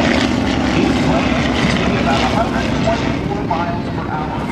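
A Stearman PT-18 biplane's 220-horsepower Jacobs radial engine drones steadily and loudly nearby during an airshow flyby, with people talking over the rumble.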